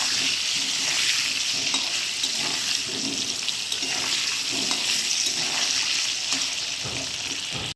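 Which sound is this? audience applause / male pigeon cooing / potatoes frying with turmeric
potatoes frying with turmeric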